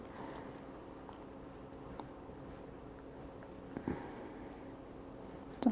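A Lamy Safari fountain pen with a broad nib, inked in dark lilac, scratches faintly and continuously across paper, with a few soft taps and one louder tap at the end, in a quiet room with no speech.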